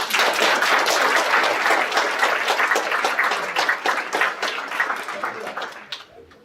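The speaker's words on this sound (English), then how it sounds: "Let's give them one big round of applause." Audience applause for student performers at a school board of trustees meeting, a dense steady patter of many hands clapping that carries on for several seconds, then thins and stops abruptly near the end.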